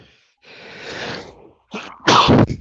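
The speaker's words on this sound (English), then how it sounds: "You can't sneeze just once." A person sneezes up close: a breathy inhale followed by a sharp, loud burst of air.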